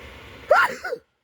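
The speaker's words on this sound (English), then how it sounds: "Excuse me, I'm about to sneeze." One sharp, close sneeze bursts out after a brief quiet breath, then cuts off into silence.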